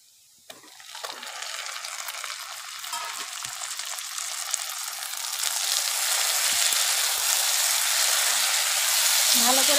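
Chicken meat goes into a pan of golden fried onions for patiala, and the frying swells from a soft crackle into a loud, dense, continuous sizzle with occasional stirring scrapes.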